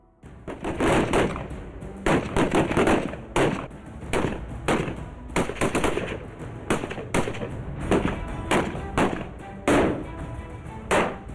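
Sustained automatic gunfire at an army corps battle school training range, loud dense bursts of rapid cracking shots with brief pauses, continuous over the whole stretch with no speech.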